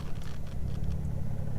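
A manual car creeping forward in first gear as the clutch is slowly released, giving a low, steady engine hum with a faint rumble, close and continuous, without talk.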